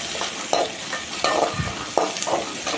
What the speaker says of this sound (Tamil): வெங்காயம் போட்டுக்கலாம். அது நல்லா மிக்ஸ் பண்ணிக்கலாம்.